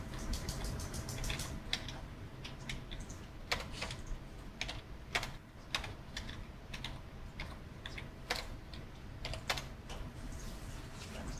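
Keys clatter on a computer keyboard in an irregular stream of quick taps and short bursts, close and fairly quiet, over a soft steady room hum during a chemistry lab session.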